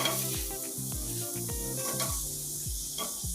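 Onion fries in oil in a pan with a bright, steady sizzling hiss close by, while a low tonal background and soft rhythmic swishes run beneath it, with no speech.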